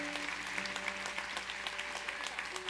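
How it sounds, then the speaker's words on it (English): A church congregation claps together during a service, a steady, even wash of many hands at moderate volume, with a sustained organ or keyboard tone humming beneath it. "Let's give the Lord a clap offering that he is worthy of."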